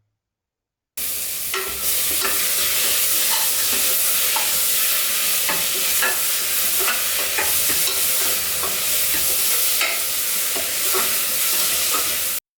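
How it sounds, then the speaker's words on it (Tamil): Onions and tomatoes sizzle loudly in a hot pan, with occasional scraping and stirring clicks from a utensil throughout. "தக்காளி வெங்காயம் நல்லா வதங்கிருச்சு"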